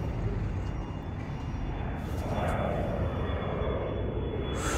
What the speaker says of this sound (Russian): О, самолетик летит.